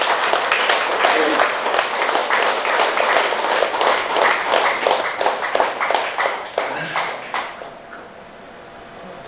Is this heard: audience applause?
yes